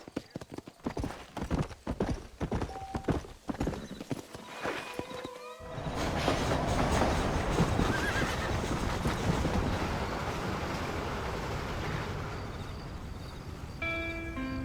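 A horse in Red Dead Redemption, clattering hoofbeats early that give way to a dense, continuous galloping rush, with a whinny-like tone and faint background talk.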